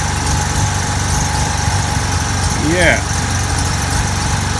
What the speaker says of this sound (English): there's a lot of fuel going through the engine, through the car from cranking and no start. But it's running now